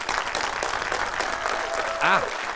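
Short burst of applause for a presented artwork: a dense, steady wash of clapping with a voice briefly rising over it near the end.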